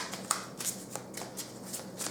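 Tarot cards are shuffled by hand in a quick series of soft, close riffling flutters, repeating about every third of a second, with a quiet room hum underneath.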